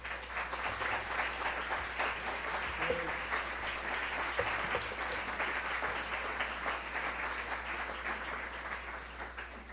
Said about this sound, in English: for all the students to give a round of applause to all of the CMC trustees who are here